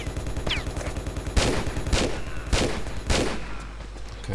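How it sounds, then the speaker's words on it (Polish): Enemy gunfire in Custom Tomb Raider, Desert Railroad II: four loud, evenly spaced shots crack over a steady low mechanical hum, each with a short ringing decay, the last fading into quieter background. "Młode już strzelają."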